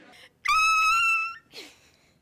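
A person's voice imitates a raptor's screech: one loud, piercing, strained cry of about a second, then a short softer breathy sound close to the mic.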